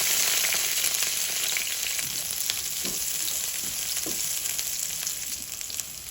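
Onion frying with garlic in hot oil in a pan for spicy sardines, with a loud, continuous close sizzle and a few faint stirring scrapes, no voices.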